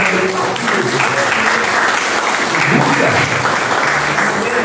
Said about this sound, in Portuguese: Você pode aplaudir você